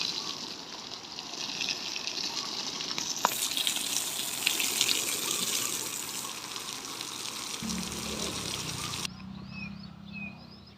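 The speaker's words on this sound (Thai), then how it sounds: "หดน้ำให้เปียกนะครับ เพื่อที่จะเวลาเขาปลูกจะปลูกง่ายนะครับพี่น้อง" Water gushes continuously onto the dry soil of a prepared vegetable bed being soaked before planting choy sum, a steady near splashing wash that shifts tone and softens toward the end.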